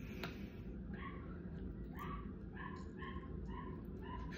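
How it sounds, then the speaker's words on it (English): A dog barks repeatedly over constant low background noise, with steady yipping barks at roughly half-second intervals, moderately near, and no talking. "sorry about that dog barking."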